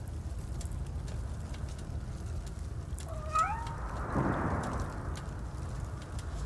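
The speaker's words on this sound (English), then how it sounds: "It's a homeless cat." A cat meows in the Robocop Rogue City video game, a short rising cry set against steady ambient game noise.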